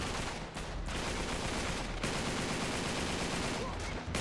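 A gun firing in Uncharted 3, heard as dense continuous automatic gunfire that fills the whole stretch, loud and close, with slight dips in between, and faint voice traces underneath.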